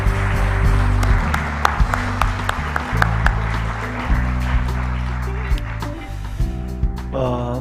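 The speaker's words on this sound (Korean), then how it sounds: "다시 한번 우리 박수하시며 들어가시겠습니다" Church congregation applauding during a Sunday worship service, steady clapping throughout with organ or keyboard chords sustained underneath and brief voices mixed in.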